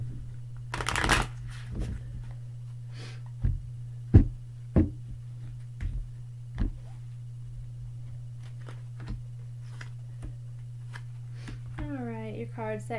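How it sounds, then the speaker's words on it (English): Tarot cards riffled in a quick, loud burst near the start, then a series of soft, separate taps and flicks as the cards are handled and laid out, with a voice starting up at the very end. "I'm going to shuffle the cards just a bit and pull out 3 cards to represent your week"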